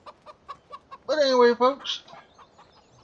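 Chickens in a pen clucking loudly and close by, a run of short clucks building into a long drawn squawk, with a voice talking briefly at the end.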